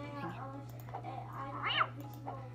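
Cartoonish cat meows from a cat video game, a few short mewing calls mixed in with a child's chatter over a steady electrical hum.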